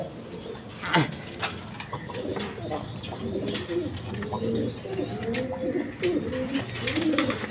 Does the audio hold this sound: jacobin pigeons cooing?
yes